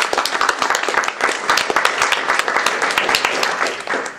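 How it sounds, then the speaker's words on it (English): An audience claps at a pitch event, dense and steady applause from a crowd that carries on evenly with no talk over it. "so I'm disappointed everybody clapped at that"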